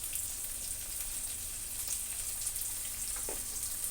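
Chopped tomato fries in a pan for bhuna khichuri, a soft, steady sizzle with faint crackles throughout, heard close and without any talk.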